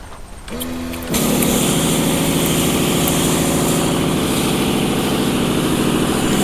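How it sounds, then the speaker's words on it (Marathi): An engine-powered sprayer runs in a mango orchard recovering from flood damage, a steady loud motor drone that starts up and continues without pause, close to the listener. "पूर्णपणे झाडाचं जी पानं वगैरे आहेत ती सगळी आपण स्प्रे करून घेऊयात"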